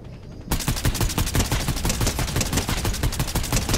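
Rapid submachine gun fire in a video game, a loud close continuous string of sharp shots in quick even rhythm, starting abruptly after a moment of quiet.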